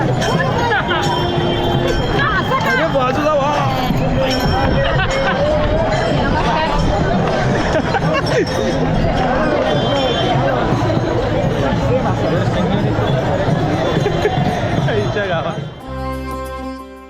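Dense crowd of pilgrims at the Pandharpur Waari, a steady roar of many voices and chatter with occasional clinks, loud and close throughout before fading at the end.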